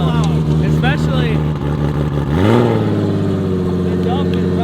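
A 1300-horsepower 2JZ-swapped Polaris RZR roars loudly nearby, its engine and exhaust revving up with a rising sweep before settling into a steady, deep drone, with people talking over it.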